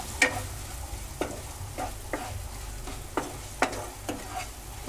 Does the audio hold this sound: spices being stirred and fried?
yes